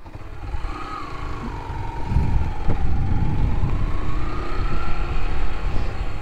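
Motorcycle climbing a hill road near Rawalpindi, its engine note rising and holding steady and fairly loud after a quieter start, with a droning tone that wavers throughout.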